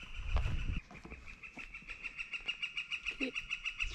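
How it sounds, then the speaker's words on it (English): A bird calls repeatedly in a fast, steady series of sharp chirps, fairly loud and close, after a brief thump at the start. "That bird is so loud."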